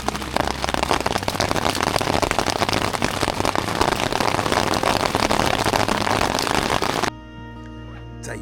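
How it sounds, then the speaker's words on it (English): Hail or snow patters densely on the top of a tent on a mountain traverse, a loud continuous crackling rush that stops abruptly after about seven seconds, leaving a quieter tonal background. "That is hail or snow on the top of the tent."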